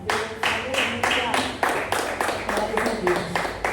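A church congregation claps in praise in a steady, rhythmic beat of about three claps per second, loud and close, with voices faintly audible beneath.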